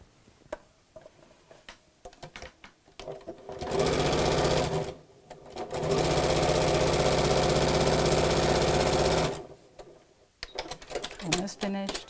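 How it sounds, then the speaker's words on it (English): A sewing machine runs straight across the top of a fat-quarter tote bag in two loud, steady mechanical bursts, the second one longer, with clicks and handling noise before and after. "And then we'll just sew straight across."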